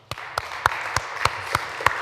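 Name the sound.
audience applause at a conference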